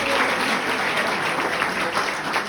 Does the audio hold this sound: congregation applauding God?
yes